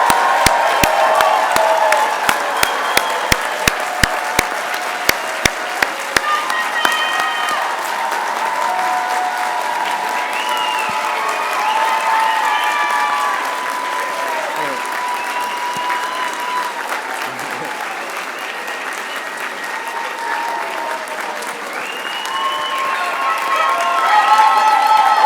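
A large crowd at a doctoral hooding ceremony gives sustained, loud applause with cheers and whoops rising through it, building and easing over about twenty-five seconds as a few distinct close claps ring out at the start.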